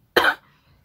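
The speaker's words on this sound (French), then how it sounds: "je sais pas pourquoi je tousse, ça m'énerve." A single sharp cough, close and fairly loud, followed by near silence.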